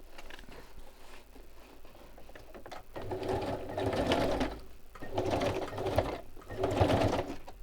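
A sewing machine stitches a zigzag in three long whirring runs separated by brief pauses, its rapid mechanical rattle close and steady.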